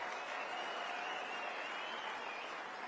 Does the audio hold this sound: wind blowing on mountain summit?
no